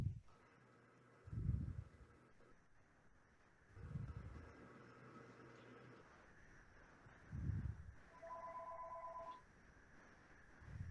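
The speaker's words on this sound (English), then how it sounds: "Somebody's phone is ringing." A phone rings in short repeated bursts during a town board meeting, moderately loud, with a steady low background hum and a brief electronic tone near the end.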